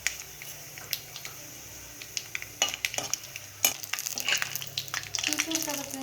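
A spoon scrapes and clatters against a pan as ingredients fry for tomato rice, steady sizzling underneath and irregular close stirring knocks throughout.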